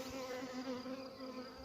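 Honeybees hum steadily around a beehive in spring, a continuous close buzz of many insects with no talk over it.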